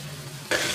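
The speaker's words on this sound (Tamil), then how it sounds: "இப்ப கருவேப்பிலை வந்து கொஞ்சம் நல்லா வதங்கிக்கிட்டோம்" Curry leaves sauté in a hot pan, and a sudden bright sizzle breaks in halfway through a brief, quiet moment.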